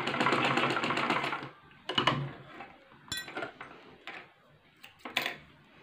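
A sewing machine stitches a two-panel (do kali) salwar, a dense mechanical rattle for about a second and a half, then short stop-start bursts of stitching and clicks with pauses between.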